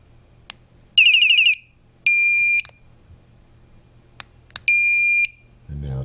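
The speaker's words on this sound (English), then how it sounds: "So now it's like a chirp." A WSDCAM bike alarm horn sounds a chirp ringtone: a loud, rapid warbling chirp, then two sustained high-pitched electronic tones separated by short pauses and faint clicks.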